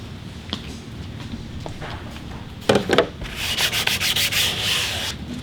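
Cloth wiping dust off a carbon fiber hood for a 2017 Honda Civic Type R, heard as soft rubbing strokes near the mic, with a louder burst of repeated rapid swipes in the second half.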